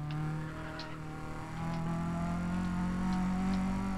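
Race car engine from Need for Speed Undercover holds a steady, loud drone with a rising pitch after the midpoint, as if accelerating, and nobody speaks.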